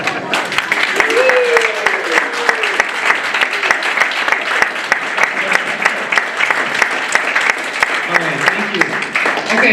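Audience applause at a publisher panel at Con of the North 2026, a steady dense clapping that fills the room for the whole stretch, loud and close with a few murmurs mixed in.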